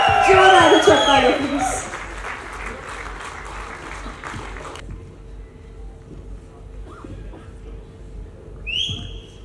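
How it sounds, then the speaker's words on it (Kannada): Loud applause and whistling from an audience as film stars Shivanna, Upendra and Ganesh come on stage, a strong burst of clapping for about five seconds that then drops away to a quiet hall with faint voices. "ಜೋರಾದ ಚಪ್ಪಾಳೆ."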